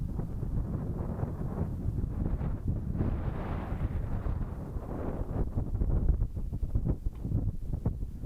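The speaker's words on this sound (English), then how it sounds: "When I got out here, it was gusting at 44." Strong gusting wind buffets a microphone outdoors ahead of a flight in 44 mph gusts, a constant loud low rumble that swells and surges throughout with no voices.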